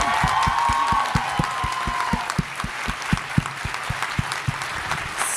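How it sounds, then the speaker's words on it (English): Audience applause at a fan convention panel comes as steady, evenly spaced claps, fairly close and moderately loud, and tapers slightly toward the end. "if everyone can please say thank you and give a big round of applause for Kat speaking about her anxiety at Green"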